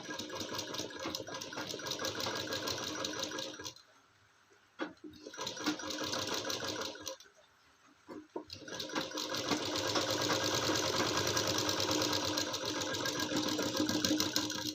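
Sewing machine stitching lace trim onto a girl's kurti, a steady rapid mechanical whir that stops twice for a few seconds with soft handling noises in the pauses.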